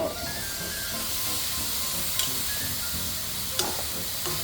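A hot non-stick pan gives off a steady, close hiss and sizzle throughout, with a couple of faint clicks of utensils against the pan.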